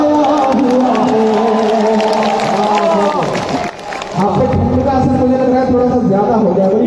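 An audience at a Kul Hind mushaira poetry recital claps in a sustained, fairly loud wash of applause, while a voice talks steadily over it throughout.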